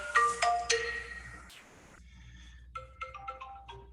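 A mobile phone ringtone chimes in a few bright melodic bursts over the first second and a half, then cuts off, leaving faint scattered electronic beeps against a quiet room.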